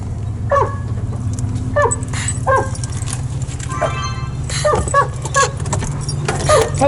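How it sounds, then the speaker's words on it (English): Dogs whimper and yip in short high bursts at close range, several times over a steady low rumble like a car engine, with a jingle of tags or keys. "Those are pretty dogs."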